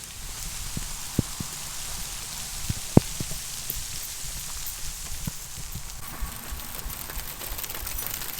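Steady rain falls outside on a cold 48-degree day, a constant close hiss with scattered sharper drips and taps striking surfaces throughout, no voices.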